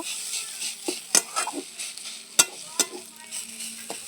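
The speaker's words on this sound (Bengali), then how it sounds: "শাক আমার ভাজা হয়ে গেছে দেখো কেমন হয়ে গেছে বেগুন দিয়ে ভেজেছি রসুন দিয়ে" Leafy greens stir-fried with eggplant and garlic in a pan, with a soft sizzle and repeated scraping and clinking of a spatula stirring close by.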